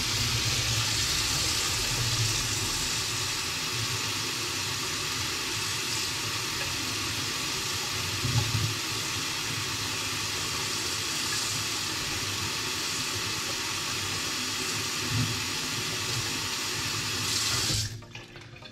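Water runs steadily from a tap, a constant close splashing stream that cuts off abruptly at the very end.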